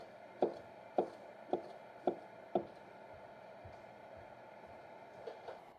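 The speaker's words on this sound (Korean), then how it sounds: "맛송이버섯 반 개도 다져 놓습니다." A knife chops half a matsutake mushroom on a board: five evenly spaced, crisp knocks, then two softer taps after a pause, all quiet and close with no talking.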